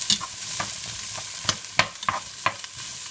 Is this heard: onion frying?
yes